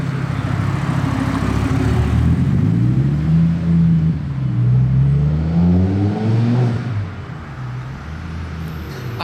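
A Donkervoort sports car passes on a Monaco street, its engine rising and falling in pitch as it revs by, loud and close before fading slightly with traffic noise around.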